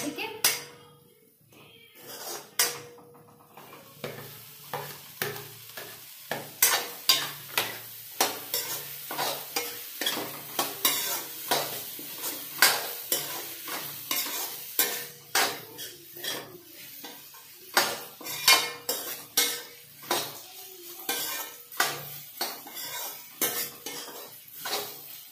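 Okra stirred with a utensil in a pan of fried onions, sizzling steadily while repeated scraping and clinking strokes of the spoon against the pan sound close and fairly loud throughout, with no talking.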